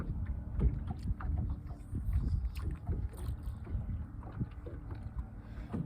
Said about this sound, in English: Got the trolling motor set on slow go.